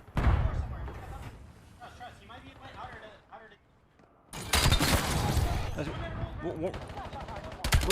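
Rapid SMG fire from a Call of Duty Black Ops 7 match, dense bursts of gunfire crowding the second half, with excited commentary voices talking over the game audio throughout.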